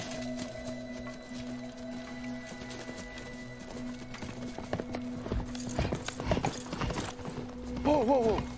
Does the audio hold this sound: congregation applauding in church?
no